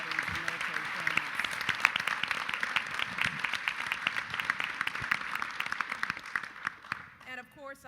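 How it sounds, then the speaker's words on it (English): A large summit audience gives a sustained, dense round of applause and clapping for a speaker, steady and loud throughout before tapering near the end. "give him a round of applause for his extraordinary leadership"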